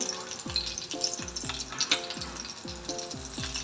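Curry leaves crackle and sizzle in hot oil in a pan for a Mushi (Mori) catfish curry, a steady close frying hiss with faint spitting pops and no talk.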